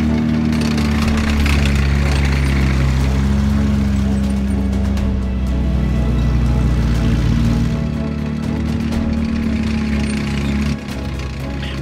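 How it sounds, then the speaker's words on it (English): The engine of an M4A3 Sherman tank labours under added throttle as the tank climbs a hill, a loud, steady low rumble with heavy mechanical clatter that eases slightly near the end. "We're going to roll a little more throttle in as we climb up and over, and the Sherman has no trouble doing that."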